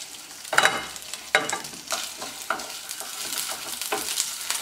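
Fish liver frying in hot oil in a pan, with steady sizzling and crackling broken by several sharp pops and stirring scrapes, loud and close.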